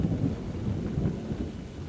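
Steady heavy rain hisses throughout while a low rumble of thunder rolls underneath, continuous and moderately loud with no voices.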